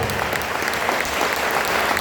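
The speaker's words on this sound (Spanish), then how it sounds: "Vamos a dar un aplauso a Dios en esta mañana" A church congregation claps together during a morning worship service, producing a dense, steady wash of applause that holds evenly for the whole span with no voices rising above it.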